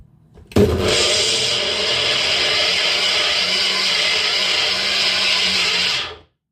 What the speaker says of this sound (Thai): ปั่นเสียงดังหน่อย